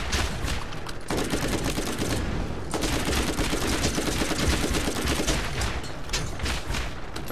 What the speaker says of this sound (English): Man, I love this fire pistol.